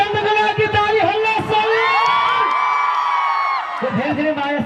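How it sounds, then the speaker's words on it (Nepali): A large crowd at a live stage show in Salyan erupts in loud cheering, whoops and shouting, sustained and close, with a few claps at the edges. "एकचोटि अमित कुमार चन्दको लागि ताली हल्ला।"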